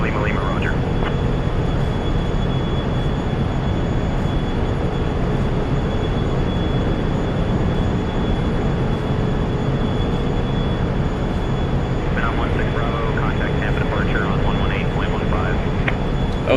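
Steady, loud engine roar inside a Phenom 300E business jet climbing after takeoff, a constant broadband rumble that holds throughout, with faint voices briefly audible late in the climb.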